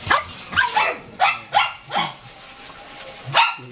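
Large dogs kept in a cage bark repeatedly at close range, a run of loud sharp barks at a quick uneven rhythm with a short pause before a final pair.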